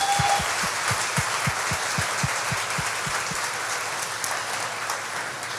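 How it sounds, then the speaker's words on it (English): Audience applause for award winners and nominees at a chamber of commerce community awards night, a steady, dense wash of clapping that holds evenly for several seconds, with low thumps beating underneath. "give another round of applause for all our winners tonight and our nominees"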